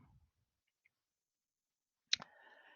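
A computer mouse gives a single sharp close click after near silence, followed by a faint electronic tone.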